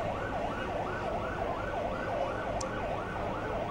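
An ambulance siren wails outside SMS Hospital, its rising and falling tone repeating steadily over a constant street and traffic rumble, heard at moderate distance without talk.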